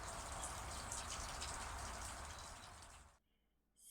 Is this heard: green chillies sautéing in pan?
no